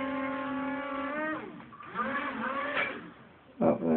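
An RC car with a boat mod driving in a tub: a high electric motor whine holding steady, dropping and rising again as throttle changes, with a short splash-like burst at the end.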